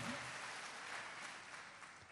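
A church congregation applauding, a dense, even wash of clapping sustained over the whole short stretch at moderate loudness.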